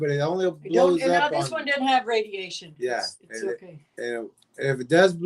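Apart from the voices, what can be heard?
No everyday noises stand out.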